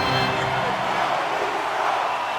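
Arena crowd noise from the NHL 25 hockey video game, a Maple Leafs versus Panthers playoff game in a tied late period, a steady loud roar of cheering fans filling the whole stretch with no talk over it.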